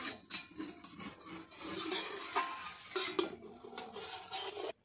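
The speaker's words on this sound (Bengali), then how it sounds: "এবার আমি ঢাকনাটা তুলে দেখব কেকটা কতটা সুন্দর হয়েছে।" A metal lid comes off a pan holding an Oreo biscuit chocolate cake baking on the stove, giving faint scrapes and light clinks close by, ending abruptly.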